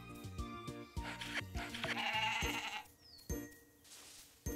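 A goat bleats in the farming game Story of Seasons: Pioneers of Olive Town, a short nasal cry over bright, chiming game music and clicky interface sounds, fairly close and clear.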